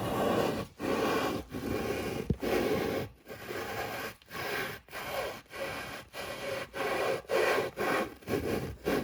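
Hand lapping of a metal workpiece without a table vise: steady back-and-forth abrasive rubbing strokes, about a dozen in a regular rhythm with brief pauses between, loud and close.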